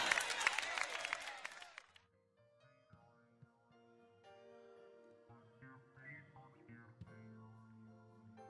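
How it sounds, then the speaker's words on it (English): A church congregation clapping hands in praise, a dense burst of applause for about two seconds that quickly fades, followed by soft sustained organ or keyboard tones. "Clap your hands and praise the Lord."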